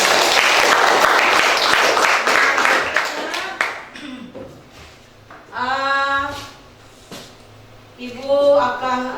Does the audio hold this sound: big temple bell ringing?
no